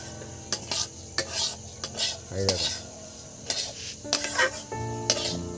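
Rice pulao being stirred in a pan, with a spoon repeatedly scraping and clinking against the metal in irregular strokes, close and fairly loud, with a faint sizzle underneath.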